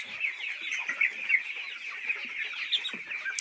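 Chickens cluck and chatter continuously at a poultry market selling chicks, ducks and quail, a dense, moderately close layer of overlapping calls with no talk.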